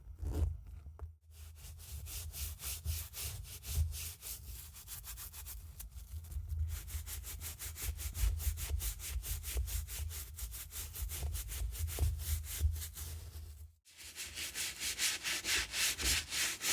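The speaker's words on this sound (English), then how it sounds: "I just removed debris with a mini screwdriver from the outsole" A mini screwdriver scrapes debris from the outsole of a leather Harley-Davidson biker boot, making a close, continuous rapid rasping with rhythmic strokes and two short pauses.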